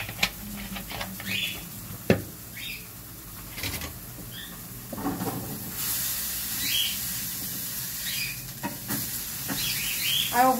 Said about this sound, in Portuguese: Aí eu vou fritar o hambúrguer, vou fritar o ovo